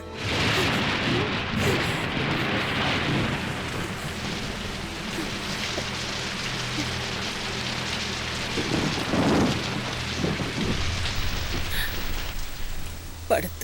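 Heavy rain pours down steadily with gusting wind at night, while low thunder rumbles roll underneath and swell at times, a dense continuous wash with no one speaking.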